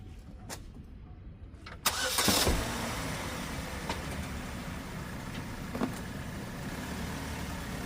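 A high-mileage 2009 Chevy Cobalt with 153,463 miles starts up with a sharp burst partway through, then settles into a steady, moderately loud engine hum as the car is driven toward ramps for an oil change.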